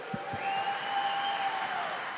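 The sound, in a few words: audience applause for swimming medalists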